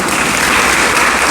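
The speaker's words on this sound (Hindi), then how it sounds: "ऐसे बजाई जाती ताली।" An audience claps in a dense, steady burst of applause at close range, with no pauses.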